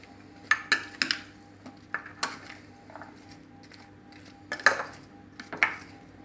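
Fruit chaat being mixed in a bowl with a spoon, scattered clinks and scrapes of metal against the dish in uneven bursts, close and clear with quiet gaps.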